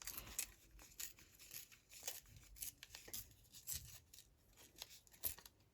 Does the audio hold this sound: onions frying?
no